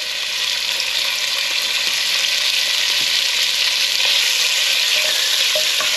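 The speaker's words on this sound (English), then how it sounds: "And then we'll get the chunks of beef in there." Chunks of beef fry and brown in hot oil in a pan, giving a loud, steady sizzle and crackle throughout with occasional stirring. There is no talk.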